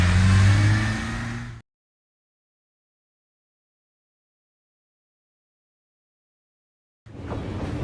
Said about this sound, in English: then he and the clowns drove away in their very small car